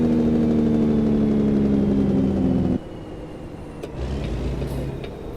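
A heavy truck in American Truck Simulator slows under braking, its loud droning engine tone dropping off abruptly midway to a lower rumble, with a brief hiss of air near the end.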